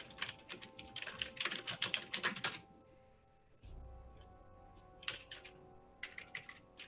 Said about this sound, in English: Alexis, can you mute yourself while you're typing away?